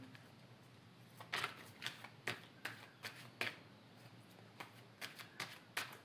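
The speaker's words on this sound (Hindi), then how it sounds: "एक और कार्ड निकाल लेती हूँ बस।" Tarot cards are drawn and handled from a deck, giving soft, quiet, irregular flicks and slaps, about a dozen crisp snaps spaced over several seconds in a hushed room.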